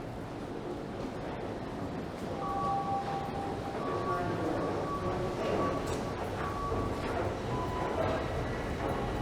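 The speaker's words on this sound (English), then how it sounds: "I could have got on that train." Toronto subway train in a station, a moderate rumbling roar rising and holding with faint squeals and tones over it, heard from the platform amid background noise.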